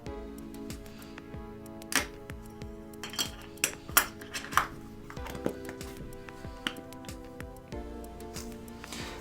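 Grinder card for vaporizer herb being scraped so its ridges grate along a surface, giving repeated short scratchy strokes in an uneven rhythm with occasional sharper clicks, close and fairly quiet.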